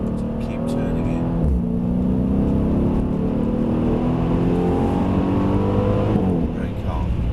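Car on a track braking hard, engine revs falling steadily, then back on the throttle with the engine note climbing again, a continuous loud drone with a brief dip before the acceleration.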